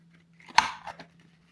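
Tiny sewing scissors from a sewing kit give one crisp, close snip, followed by a couple of faint light clicks in an otherwise quiet room.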